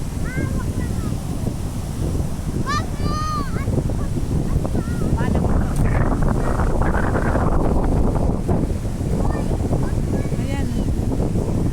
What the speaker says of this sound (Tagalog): Lakas ang hangin dito sa tabing dagat.